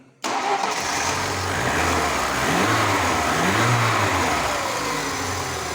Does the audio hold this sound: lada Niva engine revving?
yes